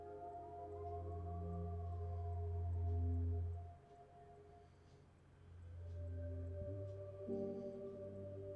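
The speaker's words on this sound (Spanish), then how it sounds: "¿De cuántas sirenas habré oído?" Sirens wail outside in the video game Life is Strange, faint overlapping rising and falling tones over a low hum that swells, dips and returns, with no talking.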